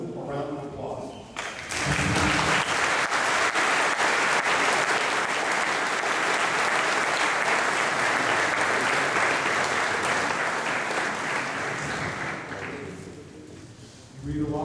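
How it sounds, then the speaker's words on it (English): A graduation audience at Aarhus University Herning breaks into sustained applause, a loud, dense roar of clapping lasting around ten seconds, with speech heard briefly before it starts and again as it fades out. "I think we just owe them a round of applause"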